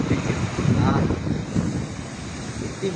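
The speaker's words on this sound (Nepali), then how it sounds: "यति मस्त हावा चलाएको छ," Strong wind gusting steadily against the microphone outdoors, a continuous low roar swelling and easing, with a voice talking over it.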